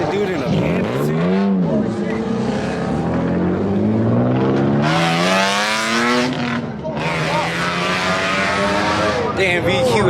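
A car with a Nissan VQ engine revs hard several times at a car meet in Gatlinburg, the rising and falling engine pitch sweeping up loudly and repeatedly, with voices nearby.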